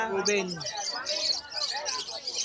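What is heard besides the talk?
lovebirds in a small carrier at a pet market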